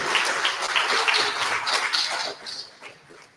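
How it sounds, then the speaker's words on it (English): Applause from the crowd at a political rally in Dearborn, Michigan: a broad, steady patter of many hands clapping, fairly close, tapering off toward the end. "please give a big hand of applause to those four previous speakers who spoke before me"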